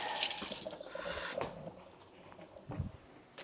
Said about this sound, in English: Just going to wash my hands.